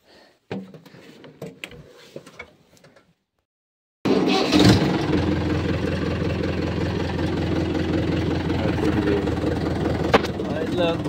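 A farm tractor with a punctured tyre, hitched to a trolley, has its engine running at a steady, loud rumbling idle. The engine comes in after a few seconds of quieter sounds and a short silence, with a voice heard earlier.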